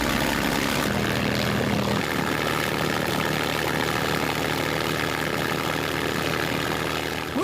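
A Spitfire's 1,200-horsepower Merlin engine roars at maximum power during a ground run with chocks holding, producing a loud, continuous, deep droning blast that holds steady throughout.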